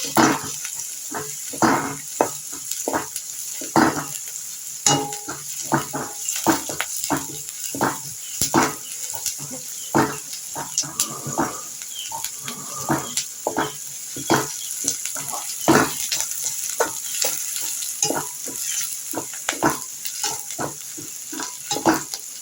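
Chicken manchurian pieces fry over a high flame, crackling and sizzling steadily with frequent sharp spatters and stirring clacks, close and fairly loud, with no talk.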